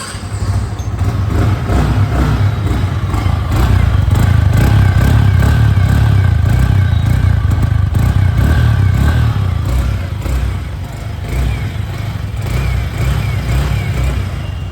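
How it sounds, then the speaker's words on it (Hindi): A 2023 Yamaha R15M motorcycle idles with a loud, close, steady exhaust note, a low throbbing rumble that swells slightly in the middle and then settles back, with no talking over it. "आपको इसका एग्जॉस्ट नोट सुनाता हूँ।"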